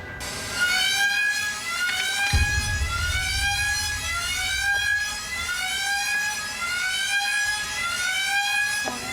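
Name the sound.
game show alarm siren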